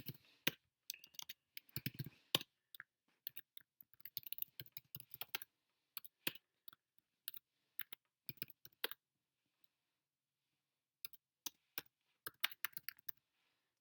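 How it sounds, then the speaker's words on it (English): Computer keyboard typing comes in quick bursts of clicks and clacks while writing Python code, close and fairly quiet, broken by several pauses, including a long silent gap midway, with no voices. "Look at me typing in the wrong window."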